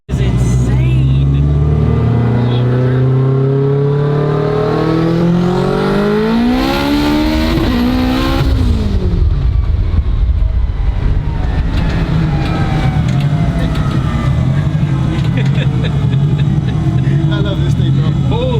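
A 1050 hp all-wheel-drive Honda Civic hatchback revs and accelerates hard, its engine note climbing loudly through the gears with a rising whine, then dropping to a steady heavy drone inside the cabin while a voice speaks over it.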